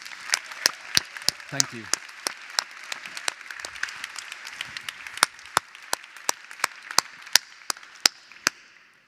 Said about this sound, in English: one last round of applause for this amazing production team, please